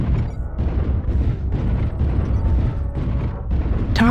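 Video game explosions destroy a target, heard as a continuous heavy rumble of overlapping booms and blasts that stays loud throughout.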